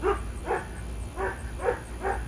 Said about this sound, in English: Oh, there go my dogs, they're gonna bark.